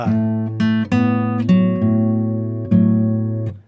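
An acoustic guitar plays a blues phrase, a series of plucked, ringing notes and chord hits with sustained decays, close and clear with no talking.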